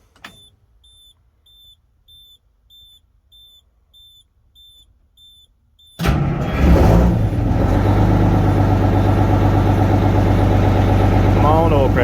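A Detroit 6V92 diesel engine cranks over and fires at once, settling into a loud, steady idle after several seconds of near silence with faint ticking.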